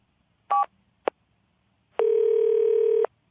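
A telephone dialing a home number: two short tone beeps, one brief and one very short, then a steady one-second dial or line tone, clear and close with no voices.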